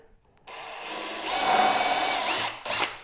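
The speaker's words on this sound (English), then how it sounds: "And then I'm going to pre-drill" A power drill whirs steadily as it pre-drills wood for a workbench after a brief quiet start, its pitch holding and then stopping, with a short burst at the end.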